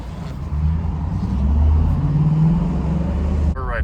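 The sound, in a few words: Coyote-swapped 2014 Ford Expedition driving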